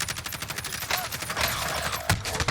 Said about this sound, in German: ich werde schon wieder beschossen